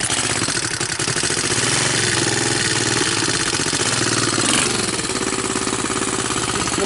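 A Honda TRX200SX ATV engine idles with a rapid, steady, rattling putter, loud and close throughout with no talking.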